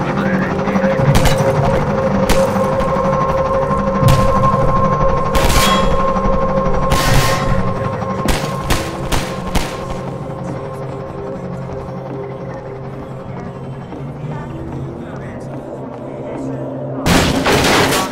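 Gunfire in a video game: sharp, loud shots and metallic clangs in irregular bursts over a steady helicopter-like drone, close, with a second cluster of shots near the end.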